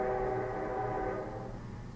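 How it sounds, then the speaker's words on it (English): A train whistle holds a steady tone, faint and distant over a low rumble, fading out toward the end. "did you hear that train whistle?"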